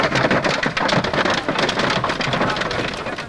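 Heavy rain pours down in a violent storm with hail, a dense, loud, continuous roar of drops hammering close by with no voices.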